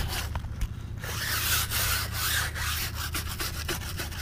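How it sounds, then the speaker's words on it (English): A brush scrubs hard against a filthy car tire during a detailing job. The scraping strokes are close and continuous, with no talk. "So I'll come in here and scrub this tire down."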